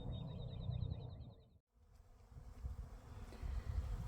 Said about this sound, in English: There's a lot of bees in the air.